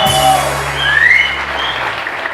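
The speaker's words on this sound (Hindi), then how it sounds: "जोर से बजाओ" Louder applause from a TV morning-show studio audience, a steady, full burst of clapping lasting a couple of seconds with a faint rising tone over it and low hum beneath.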